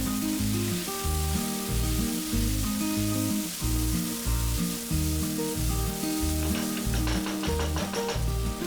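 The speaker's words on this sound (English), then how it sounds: "add 2 green chilies chopped, 2 tablespoon ginger garlic paste and then fry it for a minute" Chopped green chilies and ginger garlic paste fry in a pan for chicken curry, giving a steady, moderate sizzle. Rhythmic background music plays throughout and partly masks it.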